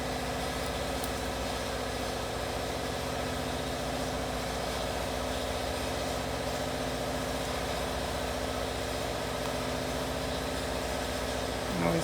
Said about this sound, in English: Ooh, and there is the air compressor.